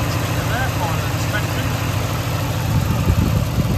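A 2018 Aston Martin DB11's 4-litre twin-turbo V8 idles under the open bonnet, a steady, close, low rumble with a faint high whine holding throughout.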